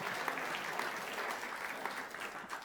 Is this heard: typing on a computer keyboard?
no